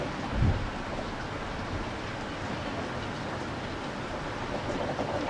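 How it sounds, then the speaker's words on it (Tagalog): Steady rain hisses continuously, with a brief low thump near the start and a dull background rumble. "Madasak ulan."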